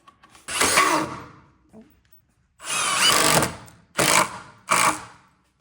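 A power drill fastens a floating mantel to blocks set in brick, running in four separate bursts: two longer whirring runs and then two short quick ones, loud and close, with no talking.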